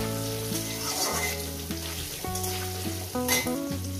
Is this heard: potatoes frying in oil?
yes